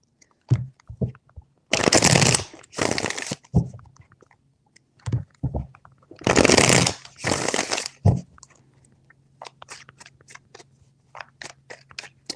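Tarot cards are shuffled in bursts, bright riffling flurries alternating with sharp taps and snaps of the deck, close and crisp with quiet gaps between.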